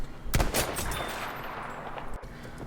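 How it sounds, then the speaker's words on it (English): A sniper rifle shot in Battlefield V rings out with a sharp crack early on, followed by a lingering echoing tail and distant battle rumble, with a brief click near the end. "wait until that perfect moment to take your shot"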